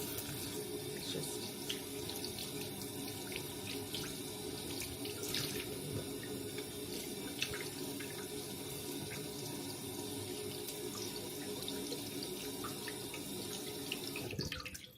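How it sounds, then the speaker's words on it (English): Tap water runs steadily over salmon fillets on a plate in a kitchen, a constant close splashing hiss that cuts off right at the end. "I'm just going to rinse it on this plate first"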